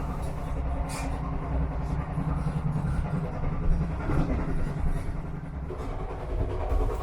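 Interior of a GWR HST high speed train running at about 66 mph, a steady low rumble and rolling drone with faint rattles and clicks, heard from inside the carriage without clear talk.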